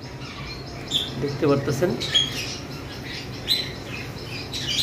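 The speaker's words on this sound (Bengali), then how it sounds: "এবার আসি লাভ বার্ডের দিকে। আমাদের লুটিনো ফিশার রেড আই রয়েছে" A male lutino red-eyed Fischer's lovebird gives short squawks and chirps in a bird shop setting, heard near and intermittent beneath a man's speech.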